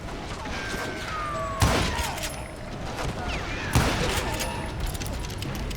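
Gunshots from the Western shooter game Call of Juarez: Gunslinger: two sharp, loud shots a couple of seconds apart over a steady background of game ambience, with scattered smaller impacts.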